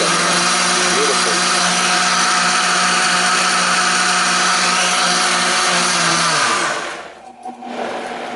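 An electric grinder whirs loud and steady close by in a home kitchen, then winds down and stops near the end, leaving a brief dip before a quieter hum.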